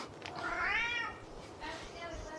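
A cat meows in two drawn-out, rising-and-falling calls, the first louder and longer, the second shorter, close by with faint background noise.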